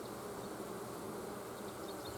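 Honeybees drone continuously over a hive frame, a thick, even buzz held close throughout.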